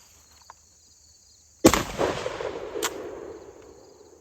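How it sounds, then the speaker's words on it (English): A single loud gunshot from a horizontal magazine-fed shotgun with a red dot sight at an outdoor range cracks sharply after a quiet pause and rolls away in a fading echo, with a fainter second report shortly after. "We'll turn on the red dot and shoot."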